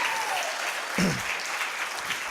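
A church congregation claps steadily throughout, a dense and continuous wash of applause from many hands, with a brief voice rising over it.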